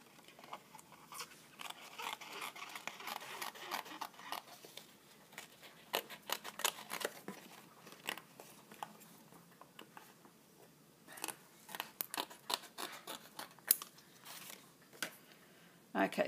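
Scissors trim around the edges of a glossy photo transfer, giving quiet, close, irregular snipping and crisp paper cuts with small rustles between them.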